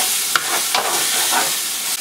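Annatto frying with garlic and onion in hot oil, a bright continuous sizzle and hiss with a few soft stirring ticks, close and steady.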